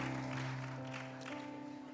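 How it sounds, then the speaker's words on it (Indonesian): A church audience applauds the Mari Kita actors at a pre-Christmas service, steady crowd clapping over a sustained musical tone from instruments, moderately loud throughout. "let's give another applause to the Mari kita actors terus for tonight."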